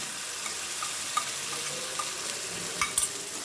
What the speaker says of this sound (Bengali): চারমগজ বাটাটা দিয়ে আমি আরও ভালোভাবে মশলাটাকে কষিয়ে নেব।